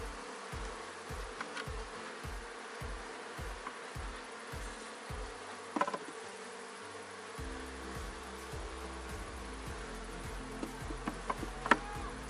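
Honeybee swarm buzzing inside a hive, a steady close hum of many bees with scattered louder passes and soft knocks, no talking over it.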